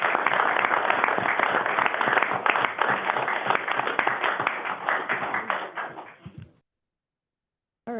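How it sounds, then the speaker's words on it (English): A city council work session audience gives a loud, sustained round of clapping that stays dense for several seconds, then trails off into silence before a brief new sound at the very end. "He deserves a great hand of applause."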